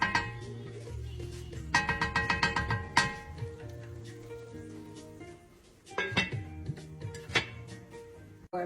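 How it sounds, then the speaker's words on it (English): A cooking pot of Tamil mutton curry gets its lid set down with a few metallic clinks and clatters, followed by another rattling knock a few seconds later, all at moderate volume in a home kitchen. "We're gonna close the lid so the spices cook really well."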